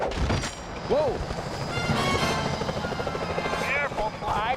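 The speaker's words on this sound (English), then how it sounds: "Those security choppers are bad news" Security helicopters in Sly Cooper: Thieves in Time thrum steadily under game action with sweeping whooshes, scattered bangs and brief voices.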